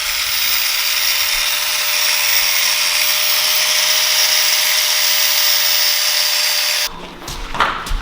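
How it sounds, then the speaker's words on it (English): A power grinder grinding down a steel Allen key, a loud sustained high-pitched whir for about seven seconds that cuts off abruptly, followed by brief clattering handling noise. "we're attempting to take an Allen key and grind it down"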